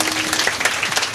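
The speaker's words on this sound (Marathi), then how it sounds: "एकदा टाळ्या, एकदा टाळ्या." Audience applause at a Marathi kirtan: a dense, steady burst of many hands clapping together, loud and close, filling the whole moment without any voices.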